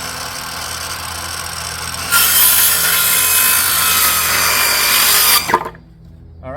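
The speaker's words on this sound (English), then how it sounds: "this time we're going to use the cordless saw" A cordless saw rips through a redwood board for a planter box, a loud, close, steady whine starting about two seconds in and lasting roughly three seconds before cutting off, with quieter shop noise before and after.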